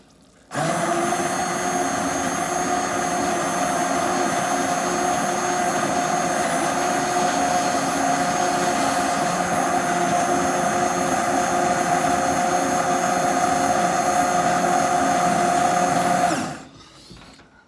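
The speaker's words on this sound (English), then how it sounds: "So, I'm gonna take the portable blender and" A portable immersion blender whirs continuously in butternut squash soup, a loud, steady high-pitched motor whine held for about sixteen seconds before cutting off abruptly.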